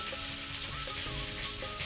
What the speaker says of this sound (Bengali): আর এক খোলা মাছ যে ভাজা হয়ে গেছে এখানে দেখো